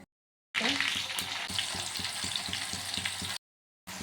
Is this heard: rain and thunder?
no